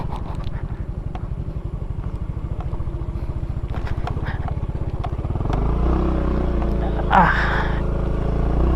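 Motorcycle riding through mud and shallow water on a rough rural track, its engine chugging in a steady close rhythm that turns deeper and heavier partway through, with a brief splash near the end.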